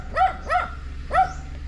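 A farm dog in the Philippines barks three times in short, sharp bursts, close and fairly loud, with a pause before the third bark, over a low background hum.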